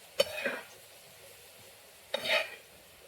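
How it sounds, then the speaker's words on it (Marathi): A wild leafy vegetable with onion and oil being stir-fried in a pan: two short bursts of sizzling and scraping a couple of seconds apart, close and fairly quiet, with near silence between. "आईने मस्तपैकी भाजी आता परतून घ्यायचं काम चाललंय"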